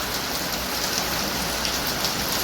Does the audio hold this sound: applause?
no